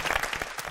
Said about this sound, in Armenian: եկեք ծափարենք Սիմոնին։